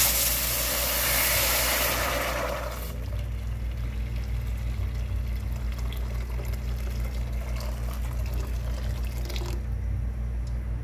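Hot water poured into a cooking pot while preparing coconut-milk fish with anchovies wrapped in bok choy, a loud gushing pour for about three seconds, then a quieter steady trickle and low hum continuing alone.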